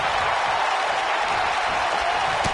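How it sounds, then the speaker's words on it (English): Wrestling arena crowd in the WWE 2K19 video game at a Survivor Series pay-per-view, a loud, continuous roar of cheering and applause filling the whole stretch with no break. "I don't remember the last time I heard a more passionate crowd than the one we have here tonight."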